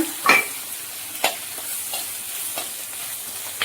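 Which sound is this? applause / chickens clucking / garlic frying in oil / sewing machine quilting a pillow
garlic frying in oil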